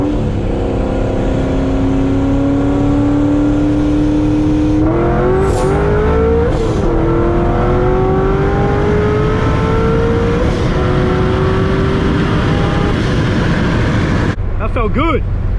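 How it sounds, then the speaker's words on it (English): A car engine drones and revs steadily, with a couple of sharp turbo blow-off valve whooshes cutting through midway, then a burst of rough noise at the end. "You can still hear the blow-off valve."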